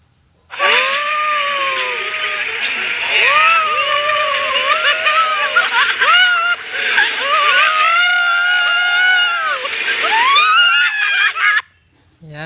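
Recorded crowd screaming played back through a speaker, a continuous roar of many shrill overlapping voices with rising and falling wails lasting about eleven seconds before cutting off abruptly.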